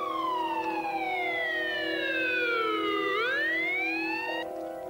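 A loud, close ambulance siren wails with a slow falling sweep, then rises again and cuts to a steady tone.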